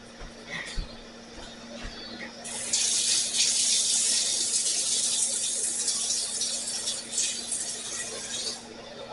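Water runs from a kitchen tap for several seconds, a steady hiss that starts after a few faint clinks, measured out by the teaspoon while making a fruit tart glazed with apricot jam.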